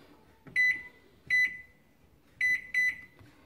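A microwave oven being set to 13 minutes and started to bake a cake, giving four short, clear electronic beeps in two pairs of keypresses, close by with quiet room noise between them.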